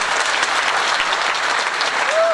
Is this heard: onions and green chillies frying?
no